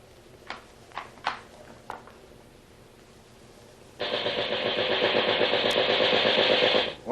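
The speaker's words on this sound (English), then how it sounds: "Man the machine gun, Holden." Machine gun being test-fired aboard ship in a radio drama: a few separate shots at first, then a sustained loud burst of rapid automatic fire lasting about three seconds.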